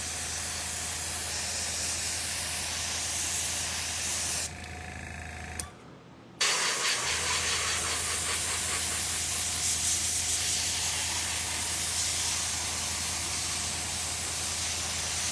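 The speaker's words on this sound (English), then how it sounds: "I can adjust the spray by pulling back. This is more spray," A continuous hiss from an adjustable spray nozzle runs throughout, cutting out briefly mid-way before resuming with a slightly changed, fluttering texture.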